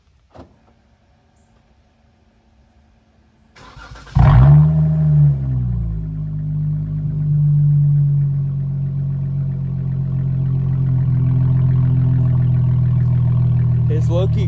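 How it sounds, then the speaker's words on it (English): A V6 Mopar car engine cranks and fires up at close range, bursting into a loud exhaust rumble that settles into a steady, throaty idle, with a faint voice before the start. "here's one more startup"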